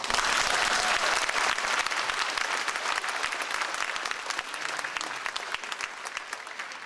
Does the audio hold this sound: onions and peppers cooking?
no